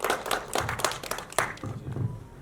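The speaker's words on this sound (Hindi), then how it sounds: "सर के लिए जोरदार तालियां हो जाए।" An audience applauds at a film trailer launch event in Lucknow, with moderate, steady clapping from a crowd lasting a couple of seconds.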